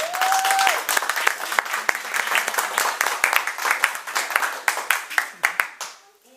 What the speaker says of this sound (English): we have to give a special clap to the girls that are here.